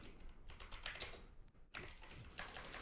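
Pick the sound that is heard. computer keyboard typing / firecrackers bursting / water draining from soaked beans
computer keyboard typing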